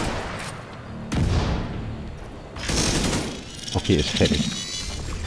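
Grenade blasts and gunfire in the shooter game The Division 2, with booming bursts around 1 and 2.6 seconds followed by sharp shots near the end, heard under someone speaking German.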